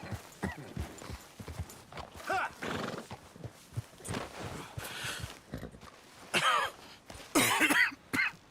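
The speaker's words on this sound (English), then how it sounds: "Get that horse in line, Arthur." A horse whinnies loudly a few times amid clopping hooves and other scattered noises, with coughs or grunts mixed in, in the video game Red Dead Redemption 2.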